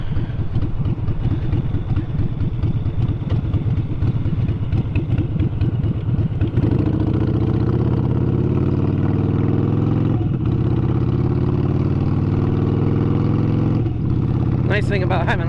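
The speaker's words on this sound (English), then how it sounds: "Nice thing about having a loud exhaust, people know you're there." A motorcycle with a loud exhaust runs close by, a deep throbbing idle that swells into heavier, steadier engine roar with occasional revs, continuous throughout.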